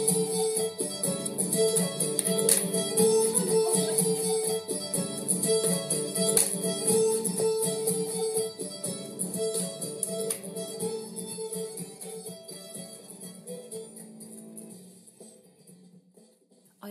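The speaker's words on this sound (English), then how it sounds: "here is the sound of their Folk Dance Remixed Friday" Recorded folk dance music, a remixed piece for a Friday dance session, plays steadily with dense layered instruments and a regular pulse before fading toward the end. It sounds moderately loud and has no talking over it.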